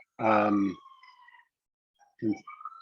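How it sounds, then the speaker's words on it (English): A faint, distant emergency vehicle siren outside wails in steady tones after a brief burst of voice, with another short voice near the end. "I became aware of a siren."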